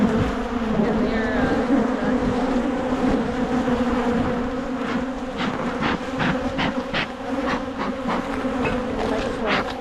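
Honey bees buzz steadily and loudly at close range as a hive is opened for a November inspection, a dense continuous drone with individual bees flitting past.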